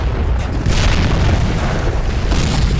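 A mortar round bursts on the ground in a war video game, a heavy, loud boom with a long rumbling tail and a second surge of debris noise partway through.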